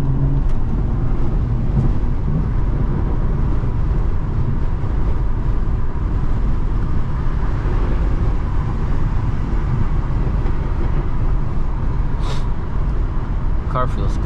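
A BMW 440i drives along, its engine and road noise forming a dense, continuous roar that stays steady and close for the whole stretch.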